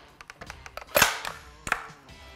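A dummy reloaded cartridge is fed from the magazine into a pistol: a few light clicks, then a sharp metallic clack as the slide slams forward, and a second, smaller clack shortly after, all close and crisp.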